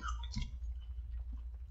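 Close-up crunching of Lay's Fritos Kettle Cooked chili cheese potato chips being chewed, a few sharp crunches followed by softer chewing.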